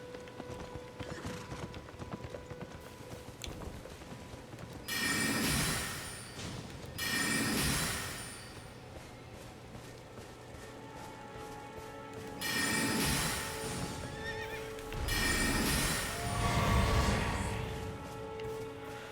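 Rhythmic hoofbeats from the video game Elden Ring come and go in bursts over a steady background hum, with a horse's whinny mixed in, fairly quiet overall.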